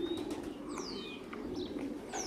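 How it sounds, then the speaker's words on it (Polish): Racing pigeons arriving over the lofts, with faint cooing and chirps, brief wing flutters and sweeping whistle-like calls against a soft, steady outdoor background. "Cztery gołębie chyba są tutaj nad gołębnikami."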